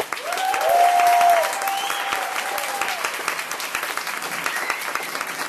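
Applause from the audience at a college international student forum greets two speakers just introduced on stage, a dense, steady wash of many hands that swells early and then holds at a lively level, with whistle-like tones briefly riding over it.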